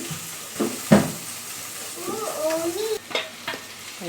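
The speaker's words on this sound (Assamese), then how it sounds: "এইখিনি অলপ টাইম ভাজিব লাগিব যেতিয়ালৈকে পিঁয়াজৰ কালাৰটো চেঞ্জ নহয়।" Onions with ginger and garlic fry for Assamese-style egg bhurji, a loud close sizzle with clanking spatula strokes and scraping against the pan, and a voice briefly murmuring partway through.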